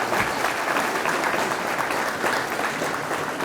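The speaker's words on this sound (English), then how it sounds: "So I'd like to give a round of applause for all those people and the others that help our program." Steady round of applause from a crowd at a high school football awards banquet, dense even clapping throughout, moderately loud with no talk on top.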